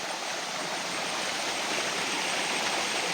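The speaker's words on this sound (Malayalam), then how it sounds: "സൂപ്പർ വെള്ളച്ചാട്ടം." A waterfall in an estate below Pannimala pours steadily in the rain, a close, even rushing hiss of falling water with no voices.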